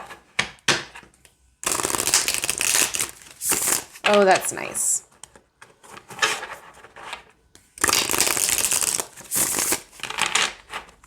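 Stiff oracle cards being shuffled in quick crisp bursts, riffling and crinkling, with a short spoken remark in between.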